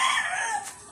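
A gamefowl rooster crows briefly and close by at a farm pen in Leyte, Philippines, a single drawn-out call lasting under a second, with hen sounds mixed in.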